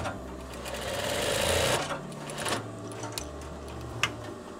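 A sewing machine runs a seam along a veterinary coverall in a fast continuous whir, broken by brief pauses and small clicks of the needle and fabric handling.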